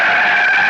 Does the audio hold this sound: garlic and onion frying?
no